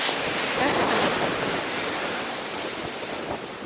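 Rough, stormy sea waves roar and crash in a continuous wash of surf in snowy spring weather at Zelenogradsk, with wind buffeting the microphone throughout.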